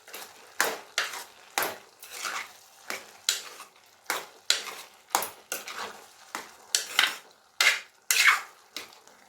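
Moong dal being stirred into cooked ash gourd kootu in a pot, a series of about fifteen distinct scraping, clattering spoon strokes in a quick irregular rhythm, close and clear with no talk.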